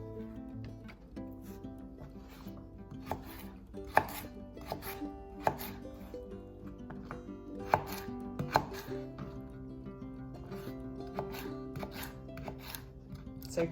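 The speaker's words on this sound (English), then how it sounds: "So keep going until you've cut up all of the carrot" Knife julienning a carrot into thin matchsticks on a cutting board, with rapid, close, irregular chopping taps and sharp knocks over a quiet background.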